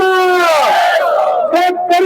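A crowd at a farmers' rally in Hingoli roars and shouts loudly to welcome Ravikant Tupkar, voices rising and falling in sustained chanting cheers close by, with no clear clapping standing out.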